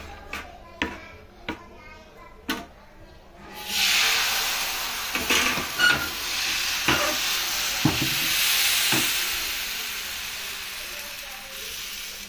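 Thin rice-flour saru chakli batter hits a hot pan brushed with ghee and sets off a broad, steady sizzle that swells and holds, after a few sharp knocks and taps of utensils at the start.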